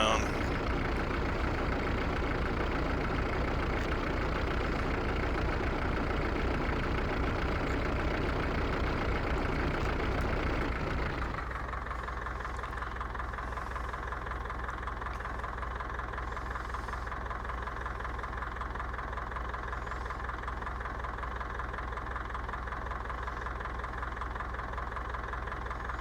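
A tractor engine in a farming video game idles steadily as a low continuous drone, heavier and busier for the first ten seconds before settling into a quieter, even hum with faint talk over it.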